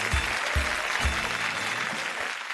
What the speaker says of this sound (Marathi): एकदा जोरदार टाळ्या झाल्या पाहिजेत प्रथमेशसाठी आणि प्रथमेशच्या वडिलांसाठी.